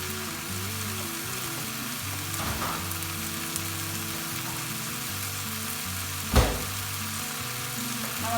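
Tomatoes cook down in an open pan for Tamil Nadu style dal fry with a steady, even sizzle and hiss, a low hum beneath it and one sharp utensil knock near the end.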